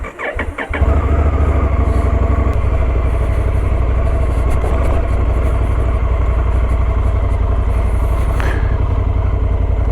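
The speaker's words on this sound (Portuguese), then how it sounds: "vamos lá começar o nosso test drive aqui da Africa Twin 2024" A 2024 Honda Africa Twin Adventure Sports motorcycle engine cranks and fires up within the first second, then settles into a loud, steady, close-up mechanical throb that holds for the rest of the clip.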